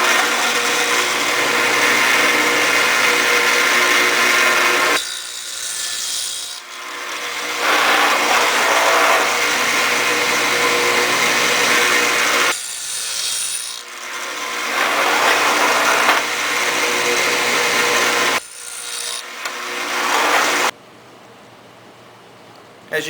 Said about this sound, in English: I'm going to take these over to the saw. We're going to go ahead and take about 7/16 to 3/8 of an inch out of each side